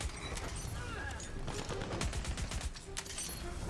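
Rapid gunfire from a fast-clicking weapon in the video game Tiny Tina's Wonderlands, a quick burst of repeated shots over game noise, fairly quiet overall.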